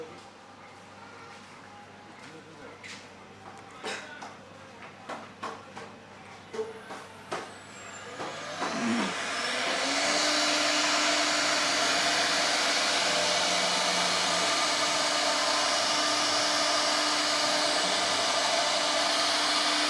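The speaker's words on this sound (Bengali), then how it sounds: "এখন কি মেশিন চলবে হ্যাঁ এখন চলবে মেশিন চালান দেখি" A Chinese CNC woodworking machine for wooden furniture gives scattered clicks and knocks, then its spindle spins up into a loud, steady high whine that holds to the end.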